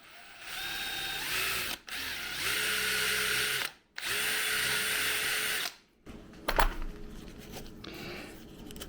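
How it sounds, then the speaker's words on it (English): A power drill works sideways to widen a hole in a small adapter housing, its high whine running in three long bursts with brief pauses between them, followed by faint clicks and handling noise. "I'm going to take the drill and go side to side in an effort to enlarge the hole."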